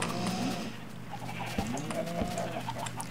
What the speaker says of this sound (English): Chickens are the goofiest animals in this entire game.